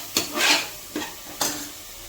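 Vegetables for goat leg soup sautéed in a pan, a soft sizzle under three quick scrapes of a spoon stirring within about two seconds, close by and without speech.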